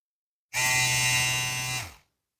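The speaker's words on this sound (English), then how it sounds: "Now to the specs of this hair clipper." A cordless lithium-ion Lilipro hair clipper switches on into a loud, even, high buzz, holds for about a second and a half, then winds down and stops, heard alone.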